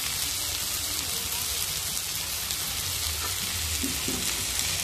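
Amla pickle cooking with fried spices crackles in a steady, dense sizzle close by, with a few light stirring knocks and scrapes near the end.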